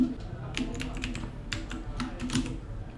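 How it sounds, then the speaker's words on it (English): Quick runs of clicking keystrokes on a computer keyboard, close and fairly quiet, tapping in uneven bursts as code is typed, with no voices. "So here I am going to type a code generating thing."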